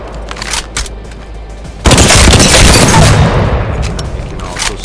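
Hemlock rifle gunfire in the video game Apex Legends, a loud sustained burst of rapid shots that starts abruptly partway through, preceded by quieter game ambience and talk.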